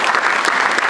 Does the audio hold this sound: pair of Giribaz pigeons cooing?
no